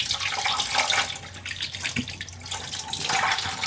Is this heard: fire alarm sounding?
no